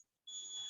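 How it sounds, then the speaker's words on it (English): Cicadas chirping outdoors, a steady high-pitched electronic-like whine that starts abruptly after a brief silence and holds continuously at moderate loudness, with no talk. "That is cicadas"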